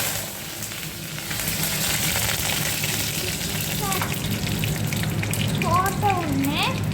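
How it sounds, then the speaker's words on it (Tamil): Mustard seeds and dal spluttering in hot oil for an egg stir-fry, a loud, steady sizzle with dense crackling pops that builds after the first second and stays close throughout. "இந்த மாதிரி கடுகு பொரியிற வரைக்கும் வெயிட் பண்ணோம்."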